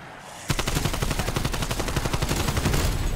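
Rapid gunfire from a double pistol in a video game, a steady stream of sharp, loud shots beginning abruptly and continuing without pause, with no voices over it.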